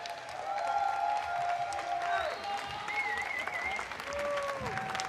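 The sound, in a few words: applause at Clash Royale King's Cup final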